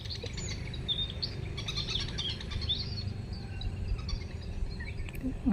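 Sparrows chirp near a fishing spot by the water, a scatter of quick high tweets over a low steady outdoor background, moderately close and without talk.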